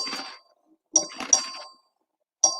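The voting bell in the Texas House chamber is rung by the clerk, sounding as bright metallic dings in separate bursts: one at the start, a pair close together, then another after a pause.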